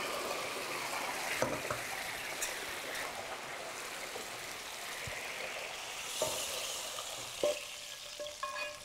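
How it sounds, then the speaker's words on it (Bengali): Tomato khatta poured into a frying pan over fried garlic, hissing and sizzling steadily up close, with a few sharp clinks of utensils against the pan and no talk. "ইচ্ছা করে ফ্রাইং প্যানের মধ্যে আমি অর্ধেকটা খাট্টা ঢাললাম, যাতে সিজলিং এফেক্টটা খাট্টার মধ্যে বজায় থাকে"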